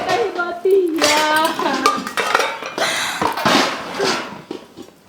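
Metal dishes, pots and utensils clatter and clink loudly up close in quick, irregular knocks, mixed with people talking.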